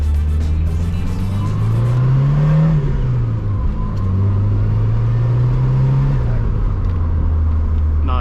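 A Ford Mustang SVO with a turbocharged engine accelerating, heard from inside as a loud, steady engine drone rising in pitch through two gear pulls with a whirring turbo note over the rumble.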